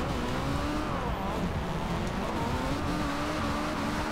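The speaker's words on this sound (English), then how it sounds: "I can already tell this is gonna be a fun little drift car." A rear-wheel-drive Honda Civic CRX drift car in Forza Horizon 2, driven in the rain. Its engine hums loudly and constantly, with pitch rising and falling as the car revs and slides, and no voices over it.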